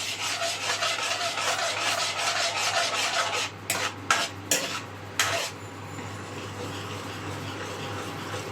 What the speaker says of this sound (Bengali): একটু একটু ভালো করে নাড়াবো।